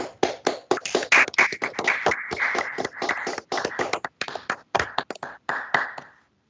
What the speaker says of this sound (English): give a round of applause for our new attorneys